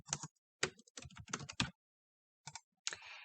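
Bursts of quick keystrokes on a computer keyboard typing into a Word text box, close and crisp, with short pauses between clusters of clicks and no talking.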